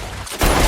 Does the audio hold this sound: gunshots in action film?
yes